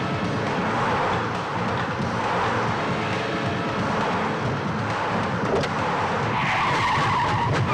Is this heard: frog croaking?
no